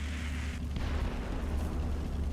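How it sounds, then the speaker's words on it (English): A deep, muffled explosion booms in the Splinter Cell video game, a low rumbling blast that rolls on and fades amid steady background noise. "Wait for one more explosion, and then that fella there is going to run."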